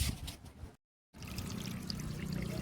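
Cold water from a garden pipeline pours steadily into an empty bottle, a close, continuous gushing trickle that cuts out briefly before flowing on.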